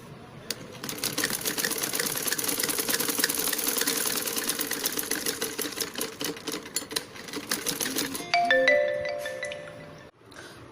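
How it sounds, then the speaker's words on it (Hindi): Sewing machine stitching the margin seams of a cross-cut blouse, a steady rapid mechanical chatter running for about eight seconds before slowing and stopping, with a few faint tonal sounds near the end. "तो ये देखिए हमने अपने ब्लाउज की मार्जिन की स्टिचिंग कर ली है।"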